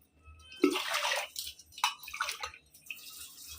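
Water poured from a glass onto raw rice to soak it, four glasses of water to one of rice, for cooking soft rice; splashing pours come in a few close, moderate bursts with short pauses between them.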